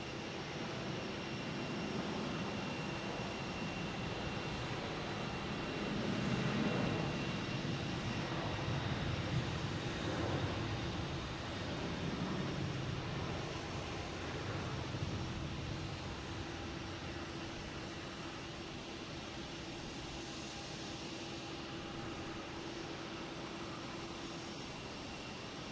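Jet engines of a JetBlue tribute airliner roar steadily at Boston Logan Airport in the evening, a broad, distant rumble that swells and fades slowly over about twenty-five seconds with no talking.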